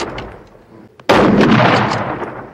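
A rifle shot cracks loud and close after a quieter stretch, its blast ringing out and decaying slowly across the remaining seconds, in a World War I cavalry battle setting in Palestine.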